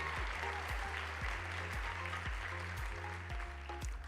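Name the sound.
audience applause for judges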